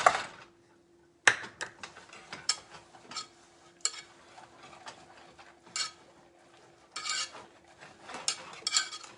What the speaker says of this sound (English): Stir those in there. And a 1/2 cup of coconut.